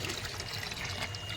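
Water pours in a steady, faint trickle from a hand pump while water is being collected, with no voices.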